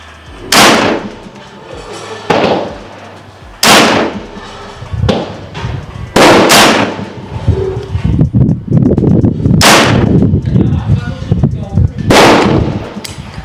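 Sharp, loud shots from a 50 cal T50 PCP airgun firing slugs, six separate reports spaced one to three seconds apart, each a sudden crack with a short ringing tail, over steady outdoor background noise.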